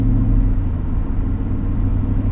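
A 2000 Mercedes-Benz S500 engine idles and cruises as a steady low rumble inside the car, continuous and fairly loud with no talk over it.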